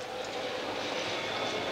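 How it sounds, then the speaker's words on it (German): A D286 train from Rome pulls in at platform 11 of a station, a steady loud rumble of rolling wagons filling the whole stretch with no voices. "Achtung, auf Gleis 11 fährt ein der D286 aus Rom."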